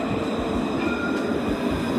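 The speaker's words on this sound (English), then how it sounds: "Oh, it's a tram." A street tram rolls past nearby with a continuous broad rumble and faint rail rattle, steady and fairly loud for two seconds, with no voices.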